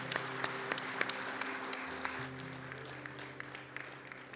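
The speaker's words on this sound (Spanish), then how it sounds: "Den un aplauso a nuestro Señor Jesús." A church congregation gives a faint applause during a service, with scattered distant claps and soft crowd noise under a sustained keyboard tone, heard far off and quiet.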